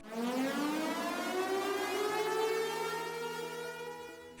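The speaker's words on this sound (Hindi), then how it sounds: "फैक्ट्री की सायरन बजती थी" A wailing factory siren rises slowly in pitch, holds a long steady tone, then starts to fade, loud and continuous with no voices.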